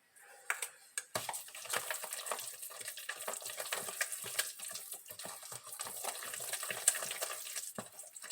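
Browning and raisins are stirred into a wet cassava pudding batter close up, with a couple of sharp knocks at the start and then continuous soft sloshing, scraping mixing.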